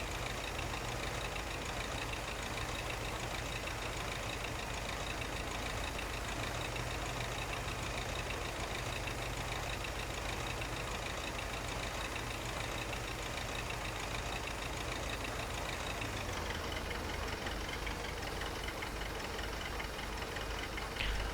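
A tractor engine in Farming Simulator 2015 labours up a hill, a loud continuous drone with a low rumbling tone that drops in pitch near the end, with no talk.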